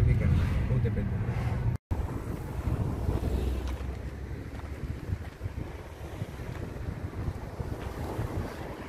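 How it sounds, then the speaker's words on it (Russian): Strong sea wind buffets the microphone with loud, continuous low rumble by the shore, steady throughout apart from a brief dropout near the start. "Ветер очень сильный, и, возможно, будет плохой звук"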